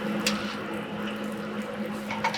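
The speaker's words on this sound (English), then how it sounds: "we're going to take a ladle full of pasta water" Pasta water ladled from a pot, a continuous watery churn and slosh with a steady low hum beneath, close and moderately loud, with no speech.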